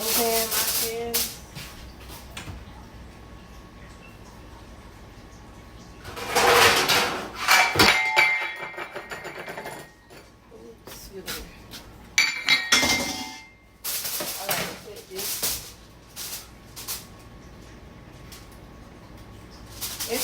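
Stacked metal baking pans are handled in a home kitchen as one is nested inside another, giving clattering clanks and rattles in short bursts between quieter pauses, with no talk.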